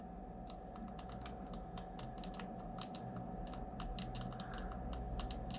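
GPD Win 3 handheld's L2 trigger pressed repeatedly, giving small dry plastic clicks in irregular bursts over a faint steady background hum, close and quiet.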